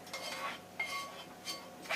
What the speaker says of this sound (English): Stir that up, stir that up.